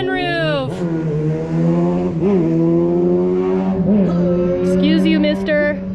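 A sport motorcycle, a crotch rocket, roars past loudly and close, its engine note rising and falling through gear changes for several seconds.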